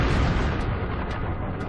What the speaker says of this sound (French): une explosion retentit au-dessus de la lointaine forêt sibérienne